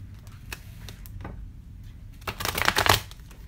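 A deck of tarot cards is shuffled by hand: scattered soft flicks and taps first, then a denser riffling burst near the end, close and fairly loud with no talking.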